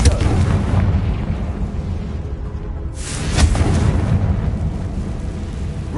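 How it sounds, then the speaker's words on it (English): A Confringo fire spell explodes in Hogwarts Legacy, a loud, rumbling boom with a fresh burst midway, followed by a rolling, crackling tail inside a stone tomb. "Confringo!"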